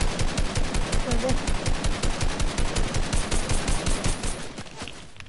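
Rapid automatic gunfire in a shooting video game, a steady close burst of evenly spaced shots lasting several seconds before tapering off, with a voice faintly underneath.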